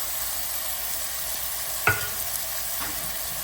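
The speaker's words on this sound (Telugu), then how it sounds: "ఇప్పుడు టమాటా ముక్కలు వేస్తున్నాం" Tomatoes with coconut powder, coriander powder and garam masala for an Andhra-style kidney bean curry sizzling in a pan, a steady frying hiss broken by one sharp clatter of stirring and a softer later scrape.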